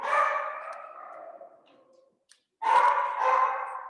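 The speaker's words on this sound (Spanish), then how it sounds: "Son mis perritos, andan loquitos, pobrecitos." Small pet dogs bark excitedly in two loud, close bursts of rapid, overlapping yaps, separated by a short quiet gap.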